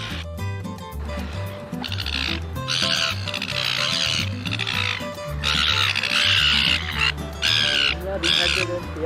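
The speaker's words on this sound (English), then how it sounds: "Ah, look, it's a baby seagull." Seagulls calling on Seagull Island, a colony of about a million birds including chicks: repeated harsh squawking bursts in an irregular rhythm, fairly close and loud, with a voice talking over them.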